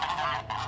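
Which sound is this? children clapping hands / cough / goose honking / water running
goose honking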